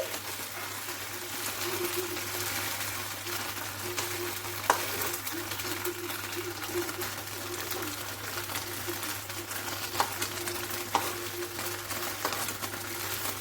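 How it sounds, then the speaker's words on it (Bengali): Cubes of paneer frying in refined oil in a hot frying pan, a steady close sizzle and crackle running throughout, with a few brief sharper pops and clinks standing out, no talk. "আরও একটা ব্যাচে কিন্তু আমি এই পনিরগুলো ভেজে নিচ্ছি।"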